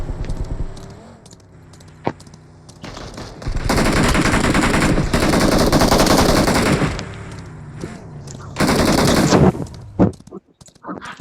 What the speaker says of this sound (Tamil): ஓ இங்கிட்டு சப்ரஸர் வச்சு அடிச்சிட்டு இருக்கான்.